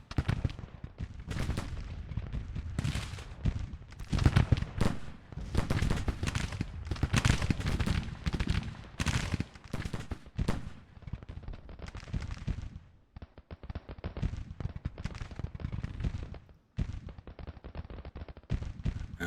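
Infantry brigades fire in a Civil War strategy game, dense crackling musket volleys and booming shots rolling in waves and overlapping bursts, then thinning slightly toward the end.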